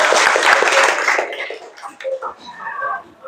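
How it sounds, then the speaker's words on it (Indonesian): A classroom of students applauds a classmate, a brief burst of loud clapping that fades quickly into scattered claps and murmuring voices. "Oke, beri aplaus buat rapi."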